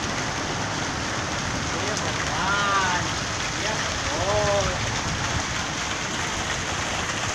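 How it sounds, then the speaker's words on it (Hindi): Heavy, record-breaking rain pours down with a dense, steady hiss, while a voice and faint melodic tones rise briefly in the middle. "यानी कि रिकॉर्ड तोड़ बारिश हुई है आज।"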